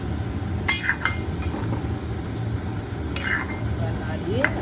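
Potatoes tipped into a pot of simmering mutton with onions and water make sharp metallic clinks and scrapes against the pot over a low sizzle and bubbling, near and intermittent.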